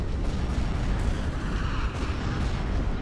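Continuous heavy cannon fire and booming blasts in a Star Wars space battle game, a dense rumbling barrage of explosions with no pauses.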